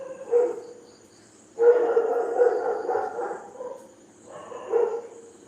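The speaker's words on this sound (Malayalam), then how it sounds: "പട്ടി ഉരയ്ക്കുന്ന ആരെങ്കിലും വന്ന് വീടിന് വല്ലതും ചുറ്റും നിൽപ്പുണ്ട?" Dog barking near a house, three bouts of harsh, howling barks, the middle one longest, moderately close with no other sounds.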